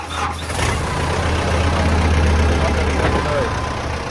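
Kubota M7040 tractor with front dozer blade and rear plough, its diesel engine running at a steady low idle throughout, a continuous deep rumble close by.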